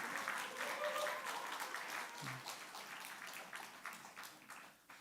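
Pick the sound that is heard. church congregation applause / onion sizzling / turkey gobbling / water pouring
church congregation applause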